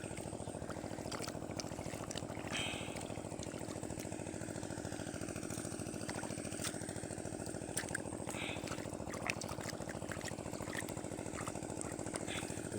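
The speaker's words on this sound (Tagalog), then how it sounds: "maghapon magdamag na umaandar yung makina" An old Chinese-made engine drives an irrigation pump on a farm, running with a steady, continuous mechanical drone and rattle at a constant pace, with water flowing faintly beneath it and no break in the sound.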